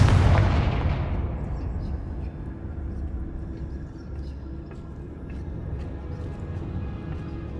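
A Confringo fire spell blasts in the Hogwarts Legacy video game, opening with a loud, booming burst that fades into a low, sustained rumble.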